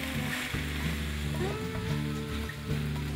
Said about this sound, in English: Just gonna mix all that up together and let it saute.